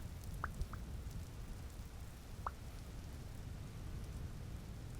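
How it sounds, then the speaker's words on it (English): Rain patters steadily during a thunderstorm in the video game Vintage Story, a constant wash of drops with a low rumbling undertone and a few brief bright ticks, no speech. "It's a nice thunderstorm, so it's the perfect time to climb up in a tree."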